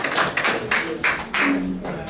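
A school audience at Trinity Academy in Ghana claps for a child, giving a few loud, separate hand claps in quick bursts, close by and with no other sound over them.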